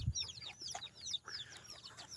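Three bantam-mix chickens clucking close by in a backyard pen, a continuous run of short chirpy clucks and soft trills with a low thump at the start.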